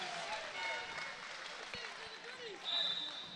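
A basketball crowd at an NZNBL game between Manawatu Jets and Taranaki Mountainairs cheers and applauds a player's play, a faint, diffuse roar sitting under a commentator's voice.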